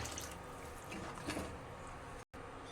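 Water pours steadily into a pan of curry with a soft splashing, continuous flow, then a brief cut near the end.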